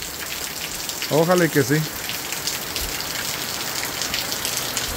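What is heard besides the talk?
heavy rain downpour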